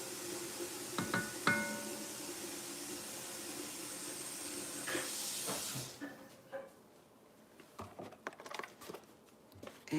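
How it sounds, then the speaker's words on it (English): Steady steaming hiss from a pot of Zuppa Toscana soup being brought to a boil, loud for several seconds with clicks and clatter, then dropping to quieter bubbling and kitchen knocks. "we will bring this to a boil."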